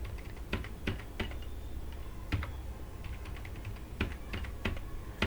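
Keystrokes on a computer keyboard entering a bill number in Tally Prime accounting software: scattered, uneven clicks and taps over a steady low hum, close and clear, no talking.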